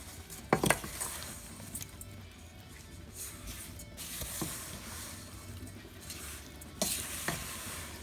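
Orange jam with sugar and a dash of ground nutmeg being stirred in a cooking pot, a steady scraping and bubbling texture with a few sharper clacks of the spoon against the pot.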